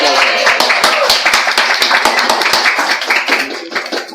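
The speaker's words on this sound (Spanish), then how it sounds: "Aplausos, aplausos." Audience applause fills the whole stretch, dense clapping from many hands at steady loudness with scattered individual claps standing out, and no voices over it.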